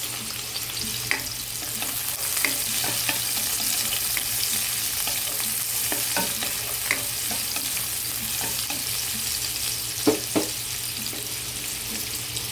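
Chopped onions sauté in a pan for Filipino ginisang ampalaya, a steady close sizzle running throughout with repeated scraping stir strokes and a couple of sharper clanks near the end.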